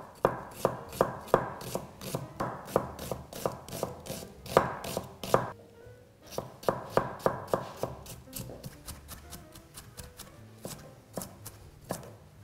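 A knife chops an onion on a cutting board in quick, even rhythmic strokes, pausing briefly before resuming at a faster pace.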